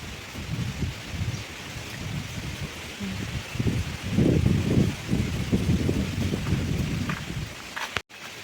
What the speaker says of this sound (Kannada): ಫುಲ್ ಗಾಳಿ ಬರೋದುಂಡು